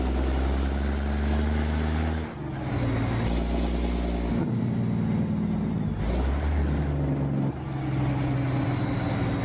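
The Viper 2 truck engine drives in American Truck Simulator, a loud continuous low diesel drone with gear-shift dips and revs rising again, heard alone without talk.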